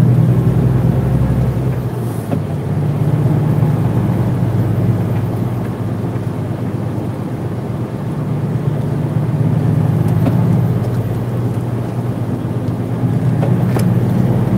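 A car climbing a steep, difficult uphill route, its engine droning steadily and loudly for a long stretch with a low rumbling roar and buffeting noise, no voices.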